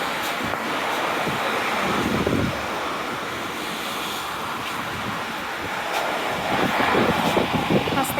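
Wind and choppy sea waves along Torquay seafront on a rainy day, a steady loud rush of surf and gusting wind buffeting the microphone, with no talk.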